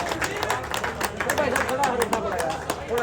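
Crowd at a Gill khap gathering in Haryana clapping loudly to welcome an arriving group, steady dense applause with rapid claps throughout, crowd chatter and talk mixed in.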